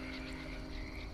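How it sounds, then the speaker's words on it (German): Frogs croaking in the video game My Time at Sandrock, a brief burst of soft pulsing croaks over a steady ambient hum. "Vielleicht sind das Frösche."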